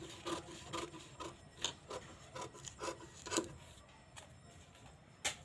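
Scissors cut fabric for a blouse sleeve with a series of quiet, close, rhythmic snips and rubbing strokes, roughly a dozen short crisp cuts spaced irregularly, with no talking.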